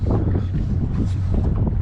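A power boat engine runs steadily under a 3 knot speed limit on a river, heading under a bridge, with a low continuous drone mixed with wind buffeting on the microphone.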